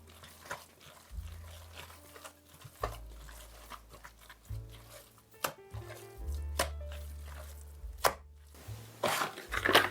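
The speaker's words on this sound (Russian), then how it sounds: "фарш даже можно немного отбить, чтобы котлеты держали форму" Fish mince for cutlets is slapped and beaten against a bowl or board, producing a run of dull, irregular thuds with small wet clicks, close by and fairly quiet.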